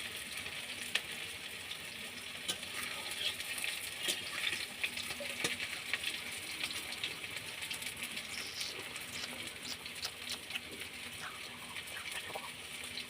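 Pumpkin flower fritters (bora) frying in hot oil, with a steady close sizzle, crackle and occasional pops running throughout, with no talking.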